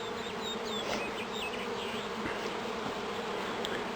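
Honeybees buzz steadily around an open top bar hive in spring, a dense close swarm hum with individual bees whining past the microphone throughout.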